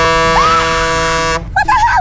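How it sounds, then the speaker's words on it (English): Loud sustained vehicle horn blast lasting over a second, close and harsh with a whistling tone sliding over it, then cutting off into a brief reedy, tonal follow-up. "I got him to honk."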